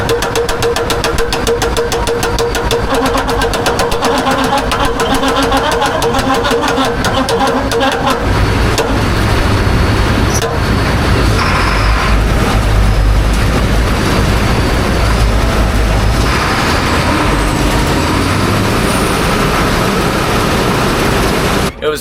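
A combine harvester works wet corn as the clutch slips on a plugged return auger, making a loud continuous mechanical drone with rapid rhythmic knocking. The tone shifts and grows rougher partway through.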